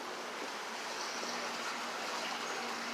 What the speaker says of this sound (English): it's definitely water in there